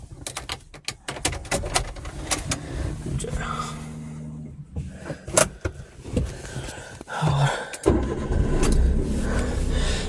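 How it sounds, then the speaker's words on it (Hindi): Inside a car at the Jalori Pass in Kullu, the air conditioner is switched on while the engine idles. Keys jangle and there are mechanical clicks and rustling, and a steady low hum builds toward the end. "थोड़ा एसी चलाते हैं इसमें।"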